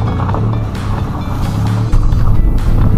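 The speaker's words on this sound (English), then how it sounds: "Let's turn it around, our off-road overland vehicle." An off-road overland vehicle rumbles with a loud, steady, low engine drone as it turns around, with road noise and a slight bump in loudness near the end.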